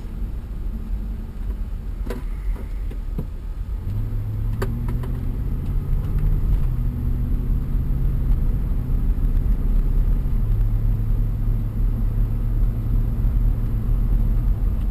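Truck engine runs with a steady low rumble from inside the cab, its pitch rising and falling gently as it revs while driving, with no one talking.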